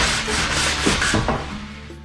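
Wooden window trim rubbed with coarse sandpaper, a loud, close, rough scratching in quick back-and-forth strokes, with nobody speaking.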